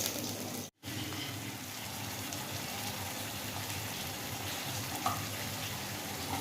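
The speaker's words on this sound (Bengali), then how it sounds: "ভাত হয়ে গেছে, মাছ ভাজা হচ্ছে" Fish frying in a pan in a home kitchen, a steady close sizzle running throughout with a brief dropout near the start and a small clink toward the end.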